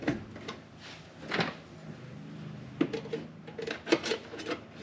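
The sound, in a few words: thin putty knife sliding under a plastic panel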